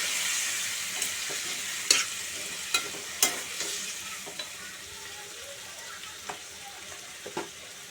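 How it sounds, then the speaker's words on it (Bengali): Spice paste with chickpeas is stir-fried in a pan, with a soft continuous sizzle and occasional spoon scrapes and taps against the pan, close but fairly quiet. "সদ্য ছোলাগুলো দিয়ে দিলাম দিয়ে এবার মশলাটাকে কষাবো"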